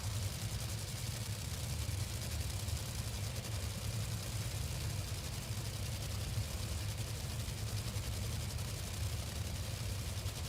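A Top Fuel dragster engine idles at a drag strip during qualifying, a continuous low rumble that holds steady and fairly distant throughout, with no voices over it.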